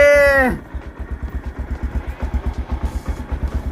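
A motorcycle idles close by with a steady, rhythmic low thumping, following a loud descending tonal sweep at the very start.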